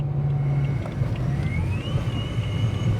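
A supercharged BMW E92 M3 driving steadily, with a faint rising supercharger whistle over a low, droning engine and road noise and some wind buffeting.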